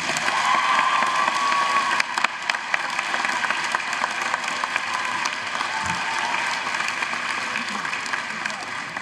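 A large convocation audience applauds steadily to welcome a student body president, a dense, even wash of clapping that holds for the full nine seconds with little change in level.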